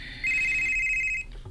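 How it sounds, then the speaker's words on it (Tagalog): A cellphone rings with a steady, high electronic ringtone that sounds for about a second nearby and then cuts off, leaving faint room noise. "Kang Daniela ang cellphone ka nang nagring."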